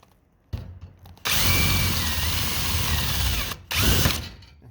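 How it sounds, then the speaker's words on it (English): Power drill boring out steel-mandrel rivets set in a tube, a loud whirring grind that starts after a short spin-up, runs for a couple of seconds, pauses briefly, then bites again. "And when I go to drill that out,"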